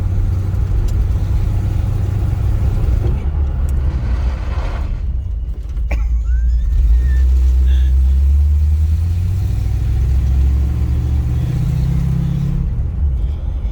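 A 1955 Chevy Nomad on its first drive accelerates with a loud, steady mid-range engine roar and deep rumble, jolting over bumps, heard from inside the car with brief talk at times.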